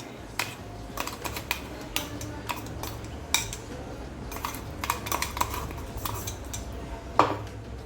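A spoon clicks and taps against a bowl in quick, irregular bursts while ground masala goes into a bowl of ground chavli lentil flour batter. The clatter is close and light, with a few louder knocks.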